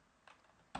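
Computer keyboard being typed on for a command-line entry, a faint short tap near the start followed by a louder close burst of keystrokes at the end, no talking.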